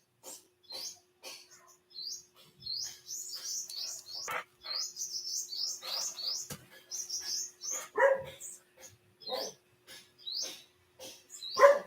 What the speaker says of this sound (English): as you hear, we have a lot of birds too